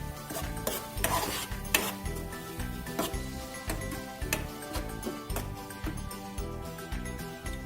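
Fresh ginger garlic paste stirred into a pan of onion for a spicy potato and egg curry: rhythmic scraping and clinking of a spoon against the pan over a low sizzle, close up, without talk.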